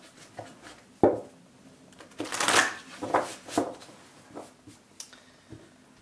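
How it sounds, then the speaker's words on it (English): A tarot deck is shuffled and cut by hand, giving close, crisp papery riffles and soft slaps in short bursts, with one longer rushing riffle near the middle; the room is otherwise quiet. "Love cutting the deck."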